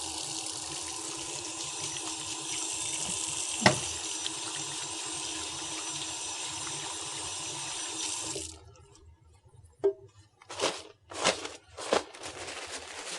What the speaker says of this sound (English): Before we begin the examination, I'm just going to wash my hands